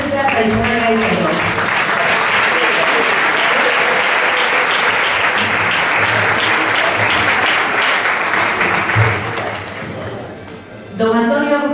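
Loud, sustained applause from an audience honoring a jury member, a master of traditional Galician music, at a bagpipe quartet competition in Ponteareas, holding steady for about ten seconds before fading as a voice resumes talking.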